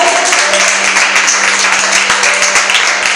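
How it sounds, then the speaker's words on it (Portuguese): Church congregation applauding at a Pentecostal service, a steady dense wash of clapping from many hands with a constant low hum underneath, loud and close throughout. "Posso ouvir um aplauso?"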